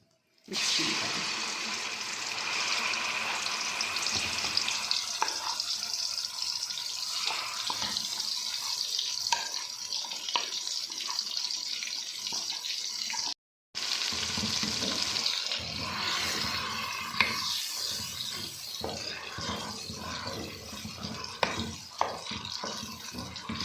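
Chana dal mixture cooking in ghee over medium heat, a continuous loud sizzling hiss with small crackles and scraping stirs throughout, close up, broken by one brief cut.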